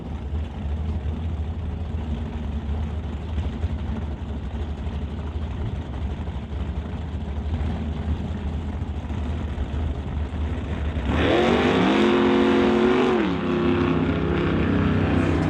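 Corvette and Camaro drag racing cars idle with a deep, steady rumble at an NHRA Summit ET Series drag strip, then about eleven seconds in one launches with a loud, rising engine roar that climbs through gears before easing off.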